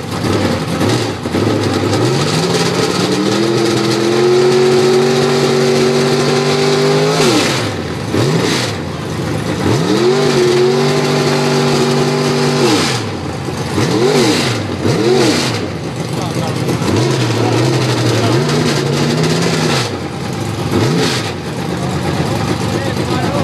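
An alcohol-fuelled IMCA modified race car engine revved repeatedly at a car show revving contest, loud, rising howls that hold, drop and return in several bursts, with crowd noise and an announcer talking between them.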